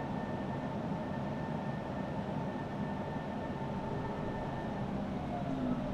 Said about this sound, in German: Können schon mal langsam bremsen, weil der Bremsweg ist halt relativ lang von diesem Zug hier